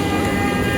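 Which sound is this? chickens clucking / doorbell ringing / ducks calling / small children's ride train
small children's ride train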